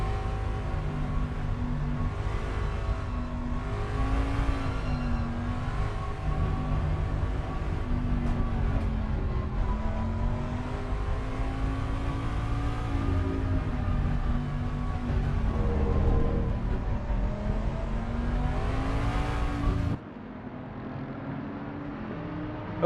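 Race cars in a 24 Hours of Bathurst sim race, engines droning steadily at the start with a dense layered roar and shifting pitch, no talk, ending in a sudden drop in level.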